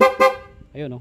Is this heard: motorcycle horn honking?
yes